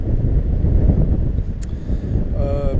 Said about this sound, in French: il y a encore pas mal de vent